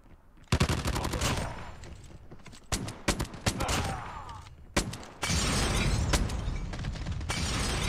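AGR 556 rifle fire in Call of Duty Mobile night mode: loud bursts of rapid shots start and stop, with crackling impacts between bursts and a final sustained volley, no voices.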